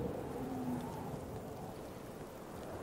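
Continuous rain falls in Cyberpunk 2077: Phantom Liberty, a soft, even wash of drops on hard surfaces with a low rumbling undertone and a faint tonal hum, no voices.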